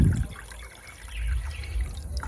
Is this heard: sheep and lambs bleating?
no